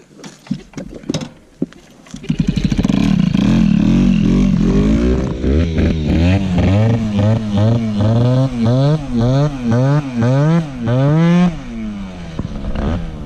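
A Peugeot 103 moped fitted with a Malossi 70cc kit revs hard and close, its two-stroke engine climbing and dropping in repeated rising blips after a sputtering start.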